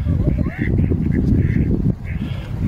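Wild ducks on the water quack in short nasal bursts that repeat unevenly, mixed with a voice talking close by and a rumbling background.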